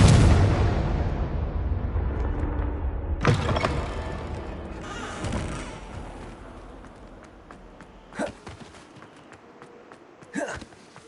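Confringo blasting spell in Hogwarts Legacy: a heavy booming blast opens, rolls into a long rumbling decay, then several sharper bangs and pops follow, fading toward the end.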